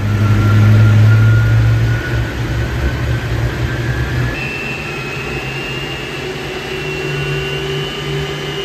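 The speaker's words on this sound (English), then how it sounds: "let's see how fast the air is coming out of the back of the jet engine" A jet engine's exhaust blasts air out the back in a loud, close, continuous roar with a steady whine riding on top, easing slightly in level partway through, with no talk.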